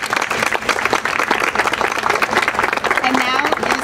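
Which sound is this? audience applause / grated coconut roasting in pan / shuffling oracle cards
audience applause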